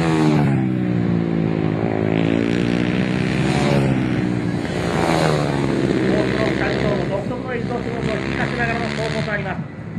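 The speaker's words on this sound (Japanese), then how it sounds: "そういったエンジン音ではありますが圧倒的な速さを見せての走行です" A high-pitched Honda CBR250R racing motorcycle engine screams loudly at Shiraito Speedland, revving up and down repeatedly as it shifts, with a voice talking underneath.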